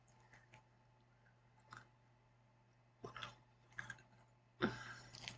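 Quiet, close crunching bites into a hard, crunchy Japanese snack, a few soft crackles early then three sharper crunch bursts toward the end, alone without talk.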